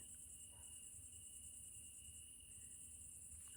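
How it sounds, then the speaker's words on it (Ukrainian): Crickets chirp in a continuous high, shrill trill, steady and faint, with a quiet evening hush beneath, in a Ukrainian village. "Виспівують цвіркуни."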